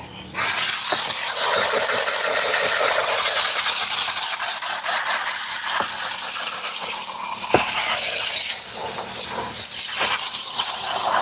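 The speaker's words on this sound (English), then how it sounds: "And we begin our carpet extraction." A carpet extraction machine steams the carpet of a Toyota Highlander, starting with a sharp onset into a continuous loud hiss that lasts several seconds, with small clicks and shifts in the spray.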